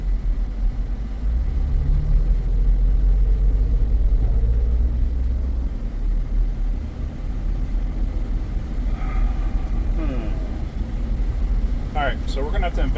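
A car with a fuel-related no-power fault runs with a low, heavy engine rumble that drones steadily at close range, and a few brief faint tones appear near the end.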